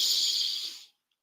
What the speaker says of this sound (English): Okay, so breathing in,